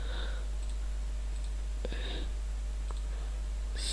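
A few sharp computer mouse clicks, close and fairly quiet, spaced irregularly over a steady low hum, with brief faint noises between them.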